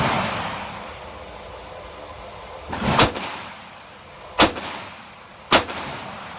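Three loud handgun shots ring out at 5 yards during a strong-hand-only drill, spaced irregularly over several seconds, each a sharp crack with a short fading tail over quiet background.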